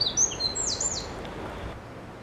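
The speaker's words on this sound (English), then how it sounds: "The wren is quite easy to know that it is there by its call." A tiny wren sings in woodland, a loud run of high, rapid trills and chirps early on that then fades into quiet background.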